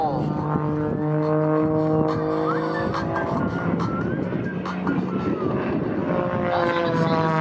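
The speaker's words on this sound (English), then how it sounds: "The energy of the engine, the torque of the engine, spinning the airplane as he slips back down through his own smoke trail." An Extra 300 aerobatic airplane's engine drones through a torque roll at an airshow, a loud, continuous tone that sweeps in pitch as the plane hangs and slides back, with a commentator talking over it throughout.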